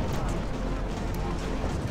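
Dense battlefield gunfire and artillery rumble in the strategy game Ultimate General: American Revolution, a thick, continuous wall of overlapping musket volleys and booming cannon with no clear gaps.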